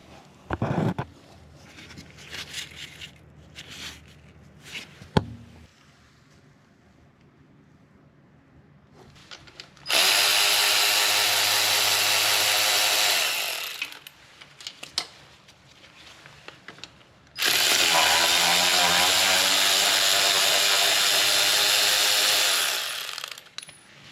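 A power tool whirs loudly in two long sustained runs while removing the 15mm starter bolts from a Dodge Magnum AWD 5.7, after scattered clanks and metallic handling noises at the start.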